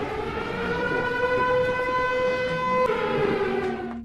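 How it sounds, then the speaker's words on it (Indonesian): A citywide disaster warning siren in a horror film about a deadly mist wails loudly and steadily, its sustained tones holding before a slight shift near the end. "tiba-tiba sirine kota pertanda bencana berbunyi"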